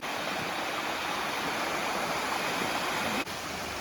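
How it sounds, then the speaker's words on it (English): A waterfall near the ruins of an old mill roars as a steady, loud wash of rushing water, continuous and close, with no voices over it. "so we're heading back down this waterfall"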